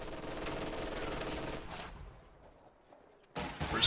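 Machine gun bursts in a Company of Heroes 2 match, a dense rattling volley of gunfire for the first two seconds that fades to a lull, then a sharp return of shots and battle noise near the end.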